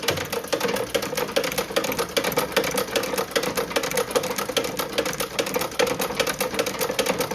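Antique treadle sewing machine from an old cobbler's shop stitching leather: a steady, rapid mechanical clatter of the needle running continuously at an even pace, fairly quiet and close, with no talk.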